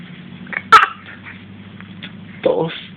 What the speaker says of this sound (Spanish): Ay, esa tos.